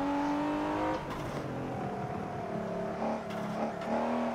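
Engine note of a car in the Forza 7 or Assetto Corsa racing games, a loud continuous drone that rises and drops through gear changes and revs, running steadily for about four seconds with no talk over it.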